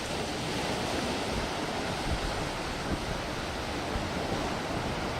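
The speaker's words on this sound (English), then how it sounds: "Now we will enjoy the serenity of the Atlantic Ocean" Atlantic Ocean surf at Daytona Beach rolls in as a steady, broad wash of breaking waves, faint and continuous with no voices.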